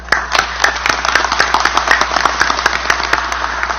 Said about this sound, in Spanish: a quien le brindamos un fuerte aplauso.